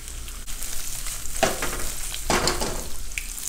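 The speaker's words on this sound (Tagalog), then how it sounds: "Prito natin sandali ha." Eggplant sizzles steadily in hot oil, with two louder crackling bursts as pieces are stirred or turned.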